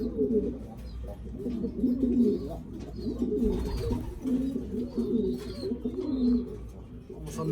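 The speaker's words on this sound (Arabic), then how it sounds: "هو قدامكم، حمام قدامكم." Pigeons coo softly and repeatedly inside a loft where birds are kept for sale, their low burbling calls overlapping continuously against a quiet background hum.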